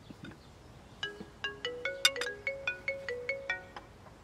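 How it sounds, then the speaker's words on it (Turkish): A mobile phone ringtone rings at a family dinner table, a bright melodic electronic tune repeating in regular pulses for several seconds, fairly close and alone without talk. "Kerim, biz kaç kere konuştuk sofrada telefonla konuşmayacağız diye?"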